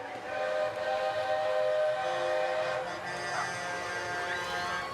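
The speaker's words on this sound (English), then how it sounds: "Sounds like there's a train coming." A train whistle sounds in the distance with sustained, wavering tones over the steady rumble of a passing train, heard outdoors amid parade crowd noise at a pumpkin festival.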